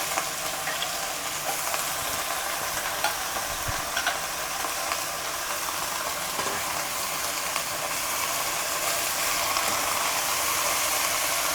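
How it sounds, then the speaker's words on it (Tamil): Manathakkali greens are sautéed in a pan, giving a steady broadband sizzle with faint scraping stirs. The sound is moderately quiet, continuous and close, with no voices. "கீரை கொஞ்சம் நல்லா வதங்கட்டும்"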